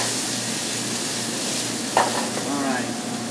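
Shrimp sizzle steadily in a hot pan in a New Orleans–style restaurant kitchen, a continuous close frying hiss. A brief metallic clink lands partway through.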